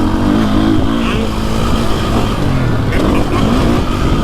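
A 2024.5 KTM 450 XC-F Factory Edition dirt bike engine drones loud and close under throttle through whoops, a steady rasping roar with small surges as a rider speaks over it.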